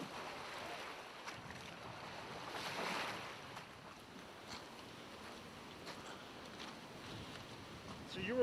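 Strong wind gusting over a lake shore with waves breaking steadily, a continuous broadband roar that swells around the third second and stays loud throughout, with no voices.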